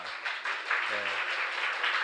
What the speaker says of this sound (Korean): 우리 하람 학생, 우리 일어날 때 박수를 한번 환영해 주시기 바랍니다